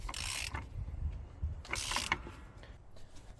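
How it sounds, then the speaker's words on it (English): Normal ratchet tightening an oil filter housing on an M112 engine, two bursts of rapid metallic clicking separated by a pause, close and fairly quiet over low mechanical rumble. "the rest of the way goes well with a normal ratchet"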